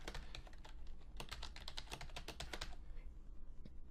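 Fingers type a password on a computer keyboard in close, uneven bursts of rapid key clicks with short pauses and no talking.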